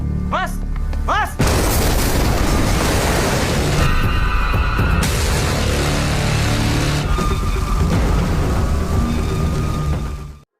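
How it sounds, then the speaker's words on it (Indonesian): In a film scene at Candi Cafe, brief shouting is cut off by a sudden massive explosion, then a long roaring rumble with debris clatter and faint ringing tones fading before the end. "tiba-tiba ledakan terjadi di Candi Cafe"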